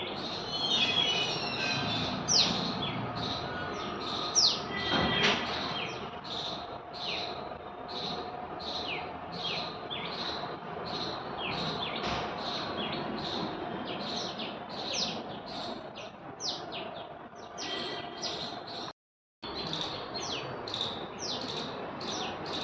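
A mix of small birds chirp and call outdoors, with rapid high tweets repeating steadily over continuous background chatter and a faint low hum, and a brief dropout near the end.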